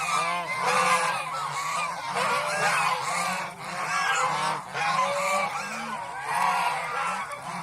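A flock of domestic geese honks loudly and repeatedly at close range, overlapping calls rising and falling in bursts with no talking.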